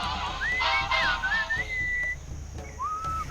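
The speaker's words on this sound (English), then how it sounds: "What is that enchanting whistling sound?" Melodic whistling from the Sam & Max Beyond Time and Space Remastered video game, episode Moai Better Blues: a clear, close tune of sliding and sustained notes in several phrases over a soft musical background.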